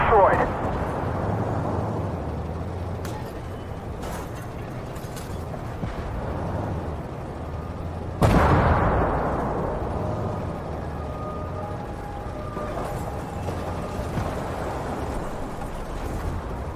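Explosions boom in the tank game Armored Warfare, with a big blast at the start and another sharp one midway, each trailing into rumbling decay amid mechanical clanks and creaks.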